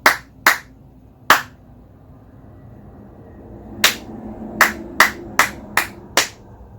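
Single person clapping out a music rhythm line: three crisp claps, a pause of silence, then a run of seven evenly spaced claps, close and clear with no talking.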